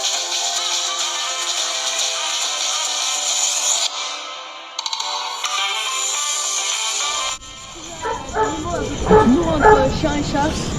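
A dog at an animal shelter yips and whimpers in short bursts near the end, following a stretch of steady high-pitched electronic tones.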